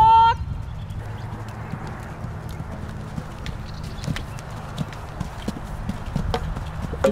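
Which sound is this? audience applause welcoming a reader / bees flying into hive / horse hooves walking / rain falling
horse hooves walking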